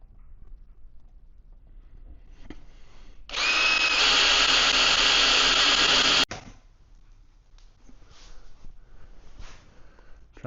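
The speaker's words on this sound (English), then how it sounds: "I'll grab my drill." A power drill bores into a powder coating oven panel with a loud, steady whine for about three seconds, ending in a sharp click, followed by quiet handling sounds.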